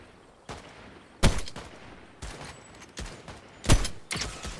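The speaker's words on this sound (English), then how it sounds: "Now I see the gunshots." Gunfire in a video game, a string of sharp, separated shots, some louder and closer than others, coming in irregular bursts of one to three against a low background, with no talk.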